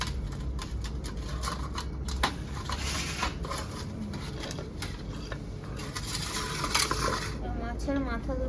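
Two fish heads rubbed with salt and turmeric fry in oil in a village-style kadai, giving a steady, dense sizzle with scattered crackles and pops throughout.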